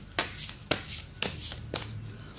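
Cards are riffled and shuffled for a magic trick, giving four quick crisp bursts about half a second apart, each a sharp rustling flutter, close and moderately loud with no talking.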